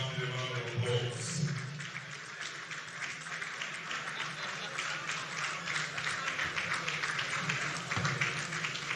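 Sustained audience applause at a ministerial press briefing, steady dense clapping that runs the full length without letting up, with brief speech mixed in near the start.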